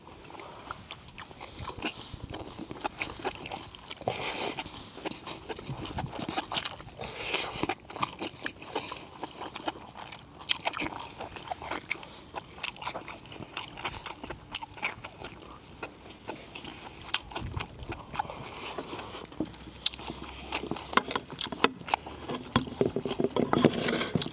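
Someone eats braised yellow corvina with bracken fern, with close, irregular chewing, biting and soft smacking sounds continuing throughout against a quiet background.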